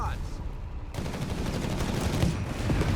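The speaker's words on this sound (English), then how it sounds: "definitely giving the rival squad a hell of a treatment as they get absolutely just plastered with firepower there and bullets" Dense machine gun and rifle fire rattles in rapid bursts during a Company of Heroes 3 battle, nearly continuous across the few seconds with a heavy low boom underneath.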